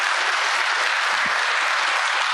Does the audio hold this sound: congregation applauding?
yes